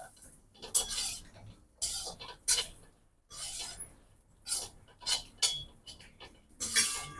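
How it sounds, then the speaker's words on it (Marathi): Raisins being sautéed in a little ghee in a pan over low heat, a spoon scraping and clinking against the metal in repeated short bursts, fairly close and with no talking. "यात मी हे शंभर ग्रॅम बेदाणे तळून घेते तळून म्हणजे परतून घेते"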